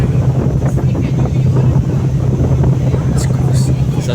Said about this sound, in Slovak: A už ideme loďou.